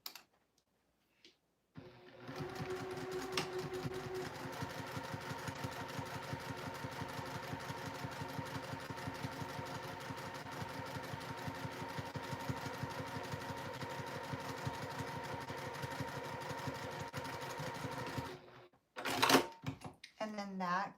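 A sewing machine stitches a straight seam across the base of a fabric Santa caddy, a steady rapid mechanical whir with even needle clicks running for about sixteen seconds before stopping, followed by brief handling noises.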